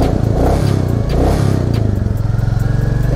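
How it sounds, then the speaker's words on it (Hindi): A Royal Enfield Classic 350 motorcycle engine runs loud and close in Manali, with a steady low thumping idle that swells in two brief revs before settling. "आज की हमारी राइड होने वाली है RE क्लासिक 350"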